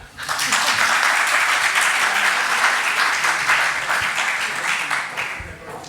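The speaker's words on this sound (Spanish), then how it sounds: "Un aplauso, por Dios." A large conference audience applauds steadily, a dense wash of clapping that holds for several seconds before easing slightly.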